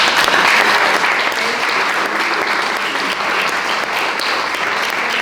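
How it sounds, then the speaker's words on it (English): A community remembrance gathering audience gives steady, loud applause that holds for about five seconds, a dense wash of many hands clapping at once. "Let's give a round of applause."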